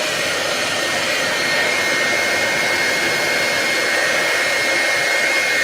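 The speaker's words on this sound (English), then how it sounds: "I'm going to dry it with the hairdryer." A hair dryer blows to dry paint on a sheet of paper, giving a steady, close, unbroken whirring hiss that stays even for the whole stretch with no talking.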